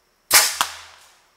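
A homemade air cannon fires one shot outdoors at a paper target about 15 yards away: a loud, sharp blast close by, a second crack a fraction later, then a ringing decay that fades out over about a second.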